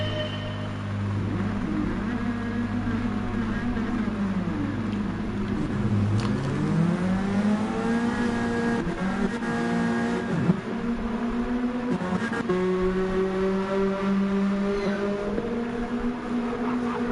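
Race car engines from the Gran Turismo 7 video game at Blue Moon Bay Speedway hold a continuous loud drone that rises and falls in pitch as cars rev, accelerate and shift gears, with no talk.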